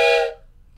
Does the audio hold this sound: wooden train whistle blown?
yes